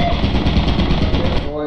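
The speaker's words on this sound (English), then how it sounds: "Guys, there's another turret." A turret in the game Lethal Company fires a loud, steady rapid burst of machine-gun shots that lasts over a second and then cuts off, while a player talks over it.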